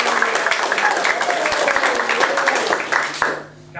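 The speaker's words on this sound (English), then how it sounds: "Go crazy with applause" An audience at a magic show bursts into applause on a count of three, thick rapid clapping holding strong before it dies away abruptly near the end.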